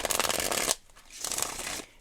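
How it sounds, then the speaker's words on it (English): A deck of playing cards is ripple shuffled twice at close range, each a rapid crisp riffle of fluttering card edges lasting under a second, separated by a brief pause. "I'm really happy that it ripple shuffles the right way"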